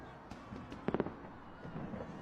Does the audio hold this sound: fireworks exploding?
yes